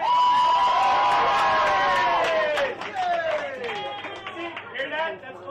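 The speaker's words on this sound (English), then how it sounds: "That's what people applauding for you." Comedy roast audience at a nightclub stage cheering, whooping and clapping loudly and close, a dense roar that thins after a few seconds into scattered shouts and claps.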